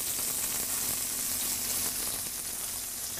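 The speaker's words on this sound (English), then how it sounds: "searing in the flavor" Spice-rubbed meat sears in a Nordic Ware Pro Cast Traditions pan on a stovetop, giving off a steady, close, even sizzle that holds without a break.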